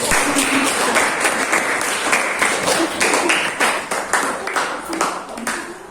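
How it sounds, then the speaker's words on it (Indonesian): A seventh-grade Indonesian class applauds a student group after its presentation. The clapping is dense and ragged, close by, and lasts several seconds, with voices mixed in. "kalau tidak kita berikan aplaus dulu sama teman-teman"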